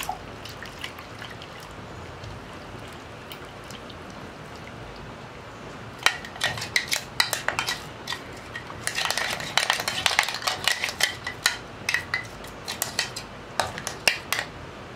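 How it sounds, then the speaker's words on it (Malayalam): Water is poured into a mixer jar and stirred into rava appam batter made from semolina, giving a soft trickle followed by a run of sharp spoon-and-vessel clinks and scrapes close up, with no talking. "മിക്സിയുടെ ജാറിലേക്ക് തന്നെ കുറച്ച് വെള്ളം ചേർത്തിട്ട് നമുക്കൊന്ന് മിക്സ് ചെയ്ത് ഒഴിച്ചു കൊടുക്കാം."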